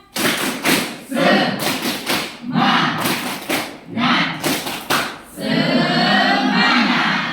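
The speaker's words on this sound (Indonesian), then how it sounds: "Sebelum kita ini tepuk semangat." Schoolchildren in a classroom do the tepuk semangat spirit clap again, sharp rhythmic clusters of group claps alternating with loud chanted calls, ending in a sustained cheer.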